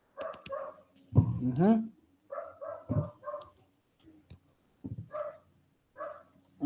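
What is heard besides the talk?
puppy barking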